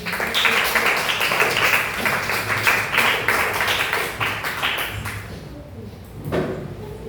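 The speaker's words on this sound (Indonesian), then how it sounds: "Tepuk tangan." Classroom audience clapping after a group class presentation, a dense burst of applause that thins out and fades after about five seconds, followed by a few scattered claps.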